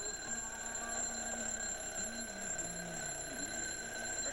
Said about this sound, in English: Set the alarm for 5.